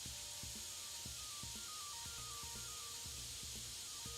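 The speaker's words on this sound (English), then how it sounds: "I hate how long it takes to freaking spray paint" A steady, airy spray-paint hiss fills the whole stretch in the video game PCB Simulator, continuous and faint. A soft, regular rhythmic pattern plays underneath and no one speaks.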